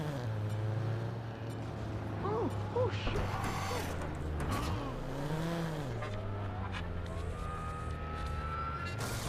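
A car drives in the Watch Dogs video game. Its engine drones steadily and the pitch rises and falls as it revs, with brief tire squeals and wailing tones over the top.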